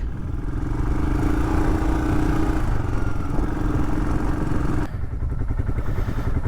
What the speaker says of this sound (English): Love this Himalayan. It's such a good bike.